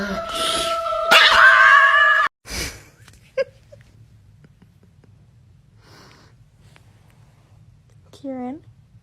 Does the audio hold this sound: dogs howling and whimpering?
yes